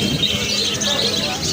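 Pigeons at a busy pigeon market in Khalishpur, Khulna, with bird calls and soft cooing mixed into a dense crowd murmur, close and continuous, while people talk over it.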